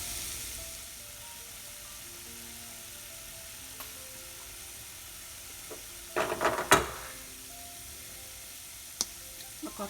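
Ingredients for Andhra-style dal curry sizzle and fry softly in a pan, a low steady hiss broken by a few brief scraping stirs and clinks.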